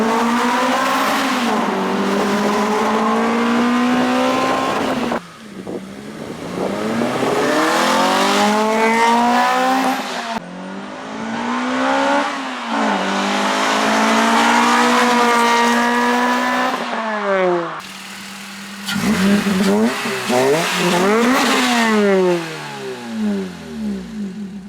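Toyota Celica GT-S with a cheap aftermarket exhaust roaring through a tunnel, loud revs rising through several gears with brief pauses between shifts, the echoing drone filling the space.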